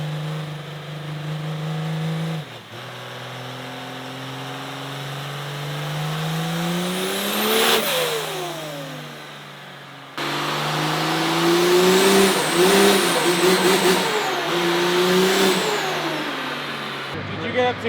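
Cummins diesel truck engine on a dyno with a 14 mm injection pump, revving hard in long rising pulls that climb steadily in pitch, drop off, then pull again, loud and close with a brief pause between runs.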